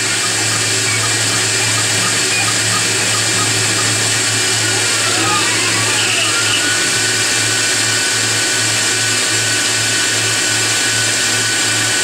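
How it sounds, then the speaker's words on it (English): A Tormach 15L Slant Pro CNC lathe spins steadily while turning a push rod, giving a continuous machine hum and whine with a faint cutting tone, constant and fairly loud throughout. "And while it's spinning, it leaves a beautiful finish."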